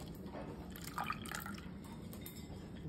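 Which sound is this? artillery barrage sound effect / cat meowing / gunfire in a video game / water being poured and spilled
water being poured and spilled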